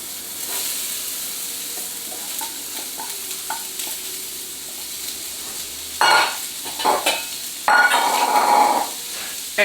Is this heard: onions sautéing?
yes